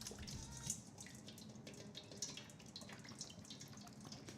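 Evaporated milk is poured into a bowl, a soft, steady liquid trickle and splash heard faintly and close up, with no talk over it.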